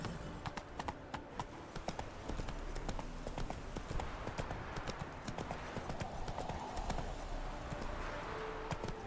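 Roach the horse trotting in The Witcher 3: Hearts of Stone, a steady run of quick hoof clip-clops over a rumbling outdoor background with faint voices nearby.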